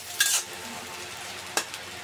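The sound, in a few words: chopped onion frying and being stirred in a pan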